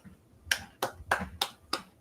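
Five sharp hand claps spaced about a third of a second apart, close and fairly loud, with no voices between them.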